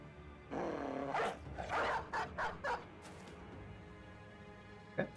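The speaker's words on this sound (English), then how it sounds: "Do we want to release the dog?" A dog barks and growls in the Battle Brothers video game, with several short, loud yelping barks in quick succession followed by a faint final yip.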